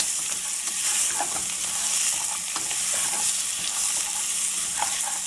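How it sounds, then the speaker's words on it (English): Paya, goat trotters, cooking in hot oil makes a continuous close sizzle and crackle, with intermittent stirring scrapes and small pops, no talk. "So if you cook in this way in the oil, it loses the smell"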